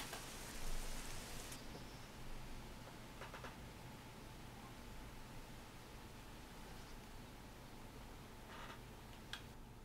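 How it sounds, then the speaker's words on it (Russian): Steady hiss of rain falls in Euro Truck Simulator 2 while driving a truck in northern Europe, a faint, even wash of noise with no talk. "все еще и дождь идет"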